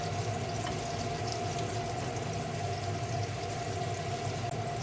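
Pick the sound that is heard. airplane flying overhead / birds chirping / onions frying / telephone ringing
onions frying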